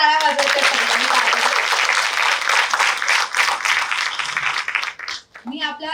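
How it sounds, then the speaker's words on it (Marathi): Audience applause at an award ceremony, a MGM University event, bursts into loud sustained clapping that fills the room for several seconds, with a voice briefly heard as it fades near the end. "जोरदार एकदा टाळ्या वाजवायच्या"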